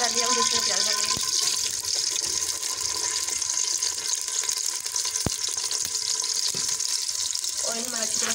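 Onions frying in hot oil for biryani: a loud, continuous crackling sizzle close by, with a few sharp clicks of utensils and occasional stirring.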